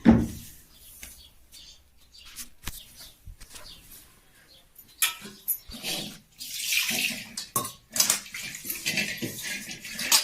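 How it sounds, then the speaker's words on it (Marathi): Metal kadhai pan being handled in a home kitchen while whole masoor lentil curry is prepared, giving scattered clanks and scrapes of cookware. Bursts of running water and washing noise rise in the second half, with no speech. "तर आता ही कढई घेतलेली आहे"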